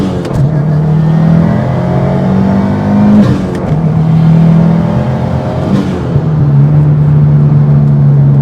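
A 2022-or-later Subaru WRX fitted with an LP Adventure catback exhaust pulls hard onto a highway, its loud, close engine and exhaust note rising through the revs with a gear shift midway and droning on steadily, no voices.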